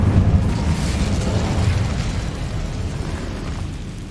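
A fire spell blasts out in the video game Hogwarts Legacy, a loud whooshing burst with a low rumble that peaks at once and then slowly fades away over a few seconds.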